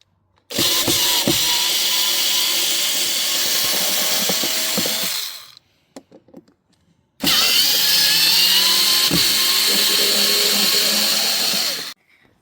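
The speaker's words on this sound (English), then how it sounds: "Might have to undo these screws as well, to see if it all loosens up." Two long, loud bursts from a power drill or driver backing out screws on a self-built campervan's shore power inlet, each running about five seconds with a short quiet gap and faint clicks between them.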